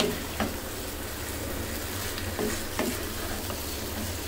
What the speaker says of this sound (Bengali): এখন মাংসগুলো দিয়ে চুলার আঁচটা একটু বাড়িয়ে দিয়ে ভালো মতন কষিয়ে নিতে হবে।